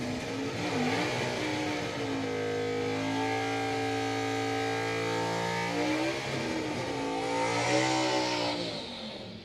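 A manual-transmission drag racing car accelerating at a drag strip, its engine note climbing in pitch through several distinct gear changes, loud and close, with a broad roar that builds toward the end.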